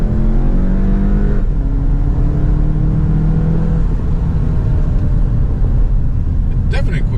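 A car accelerates through its gears from inside the cabin, with steady engine drone and rising pitch sweeps that drop at each shift over continuous road rumble, and talk heard over it.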